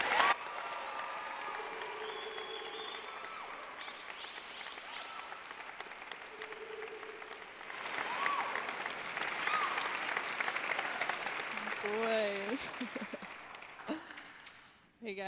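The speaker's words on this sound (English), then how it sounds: "please give another round of applause, a welcome to our second speaker" Audience clapping to welcome a speaker at a senior testimonies event, a long, steady round of applause that swells partway through, with some cheering and a few voices mixed in.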